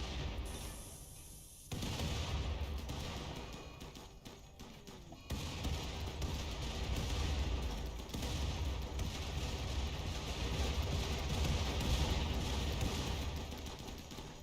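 Explosion in RimWorld, a sudden rise into a dense, rumbling roar that holds for several seconds at moderate loudness, with a second surge partway through.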